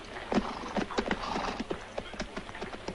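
Horses in a western film, with steady clip-clop hoofbeats and occasional neighs close by, forming a busy, continuous rhythm without talk.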